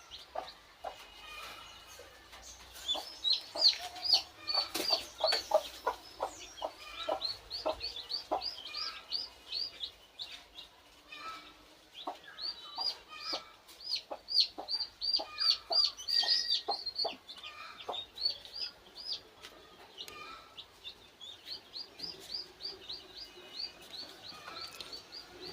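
Free-range chickens on a farm, resting in shade, cluck and call in bursts of short, overlapping notes, fairly close, with brief quieter gaps between flurries.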